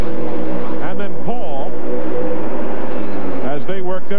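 IndyCar race cars lap the oval at Charlotte during a 1998 Indy Racing League 500k, their engines a steady loud drone with a few passing surges, heard under continuous race commentary.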